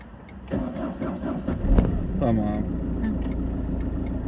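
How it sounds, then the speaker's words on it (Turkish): A car engine cranks and catches during a first driving lesson, then settles into a steady close idle, while a person speaks over it. "Araba çalıştı."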